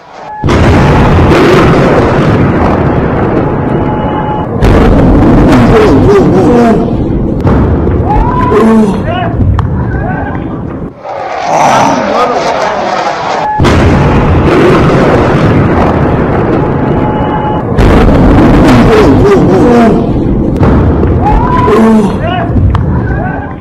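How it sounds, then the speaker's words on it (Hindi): Missile attack explosions over Tehran, Iran's capital: repeated loud booming blasts and rumbling bursts, dense and continuous, with a brief lull in the middle. "ये तस्वीर आप देख रहे हैं, तेहरान पर मिसाइल अटैक हुआ है"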